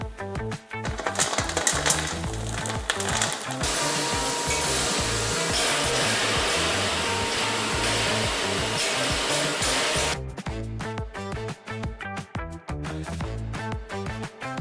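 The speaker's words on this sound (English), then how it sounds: "Now we're grinding it in Demirbas Machine's Spice Grinder." A Demirbas Machine spice grinder, made in Turkey, grinds very hard date seeds into powder with a loud, steady mechanical roar. Rattling bursts come at the start and again after the middle, and no one speaks.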